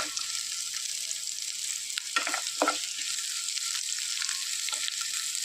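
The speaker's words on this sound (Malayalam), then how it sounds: "ഇതെല്ലാം നന്നായിട്ട് വഴന്ന് വരാൻ തുടങ്ങിയിട്ടുണ്ട്" Carrot and onion sautéing in a pan for a Kerala-style stir-fry, a steady soft sizzle with a few scraping stirs of a spoon, close and continuous with no talking.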